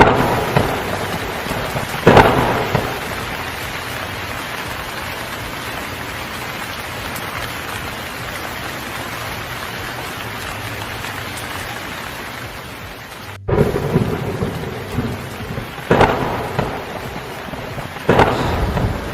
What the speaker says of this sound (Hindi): बिजली चमक रही होती है और थोड़ी देर में बारिश भी शुरू हो जाती है